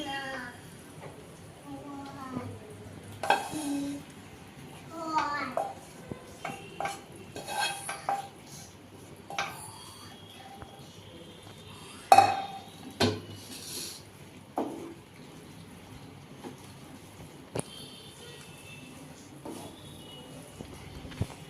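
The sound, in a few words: stirring grated coconut into sugar syrup in a pan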